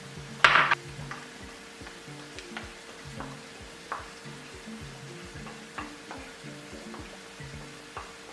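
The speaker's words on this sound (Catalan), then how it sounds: "posarem la tinta i barrejarem la tinta de les sèpies" Cuttlefish ink stirred into a rice mixture frying in a pan for black rice: a soft continuous sizzle runs under repeated scraping strokes of a utensil against the pan, close up, with one sharp clink near the start and no talking.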